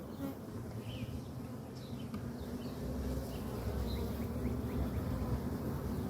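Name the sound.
honeybees buzzing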